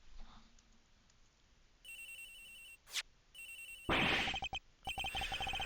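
An electronic phone ringtone from the video game Miles Edgeworth Investigations repeats in bursts of bright trilling tones, broken by short electronic blips and pauses, loud and clear with no talking.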